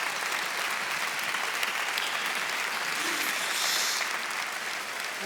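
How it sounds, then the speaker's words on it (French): Loud, dense applause from a theatre audience at a live comedy circus-themed show, a continuous roar of clapping filling the hall with little variation. "On les applaudit très fort"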